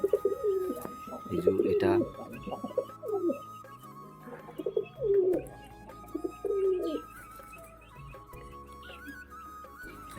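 Pigeons coo in repeated soft, throaty phrases close by, with someone speaking briefly between them and faint rustling in the background.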